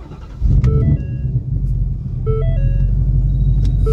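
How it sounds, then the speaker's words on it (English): A Ford Mustang Mach 1 with long tube headers, cold air intake and an E85 tune firing up for the first time, a loud deep engine rumble that catches and settles into a steady, throaty idle, close by with no talk. "First startup, Mach 1, long tube headers, 350 manifold, 350 cold air intake, Lund E85 tune."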